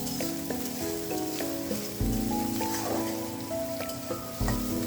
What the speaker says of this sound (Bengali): চুলায় একটা প্যান বসিয়ে পর্যাপ্ত পরিমাণে তেল দিয়ে দিলাম। তারপর পেঁয়াজ কুচি আর কয়েকটা কাঁচামরিচ ফালি করে দিয়ে দিলাম। চিংড়ি মাছ দিয়ে দিলাম।